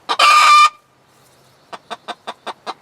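A hen in a coop lets out a loud, drawn-out squawk, then after a pause gives six short, evenly spaced clucks close by.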